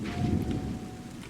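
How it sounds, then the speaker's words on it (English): Game rain and thunder in Terra Nil roll in as a steady patter of rainfall over a low, rumbling thunder swell, heard briefly and fairly close. "there's one more rain coming, so we're going to cover all of these patches as well"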